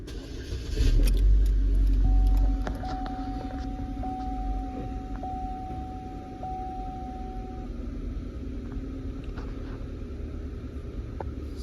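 A vehicle engine cranks and starts with a loud low rumble in the first seconds, then settles into a steady idle hum with faint clicking ticks over it, in cold conditions with a -40 temperature reading.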